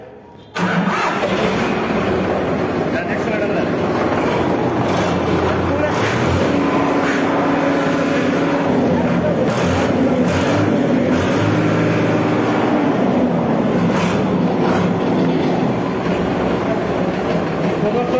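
A second-hand Sonalika DI 740 tractor starts and its diesel engine keeps running loudly and steadily close by for the rest of the stretch.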